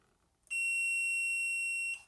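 A multimeter's continuity buzzer sounds while probing a shorted diode during repair of a Peavey UltraVerb amplifier. One loud, steady high-pitched beep holds for about one and a half seconds in a quiet room, with no talk.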